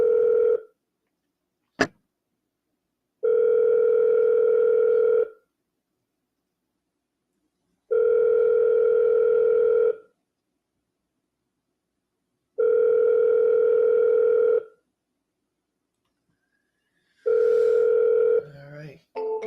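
A telephone line tone sounds in four long, evenly spaced steady bursts separated by silences during a cold-calling session, with a brief click near the start.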